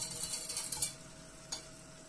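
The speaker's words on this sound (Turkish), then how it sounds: "İyice şekerler erinceye dek çırpın" Sugar syrup for flour and semolina halva is whisked in a pan, giving rapid, close scraping strokes for about a second. Quieter stirring follows with a single light knock.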